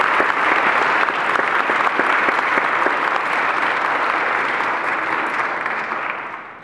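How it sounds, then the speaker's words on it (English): Loud, sustained clapping from a congregation at a Mass marking a priest's 25 years of priesthood, many hands in a thick continuous patter that fades out near the close, no speech over it. "We give a round of applause."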